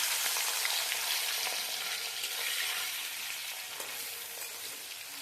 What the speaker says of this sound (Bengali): তেল গরম হয়ে গেছে, এবার আমি এর ভিতরে চাপিলা মাছগুলোকে ভেজে নেব।